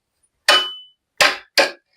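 Hammer blows on wood while building a goat house: three sharp, ringing strikes, one then a pause and two close together, loud and near with no talk.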